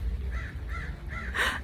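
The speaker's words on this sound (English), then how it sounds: "Yeah, you hear the parrots?" Parrots squawk near a garden of sunflowers, giving four harsh, evenly spaced calls at moderate distance, the last one louder and rougher, over a low outdoor rumble.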